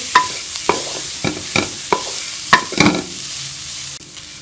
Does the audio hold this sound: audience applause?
no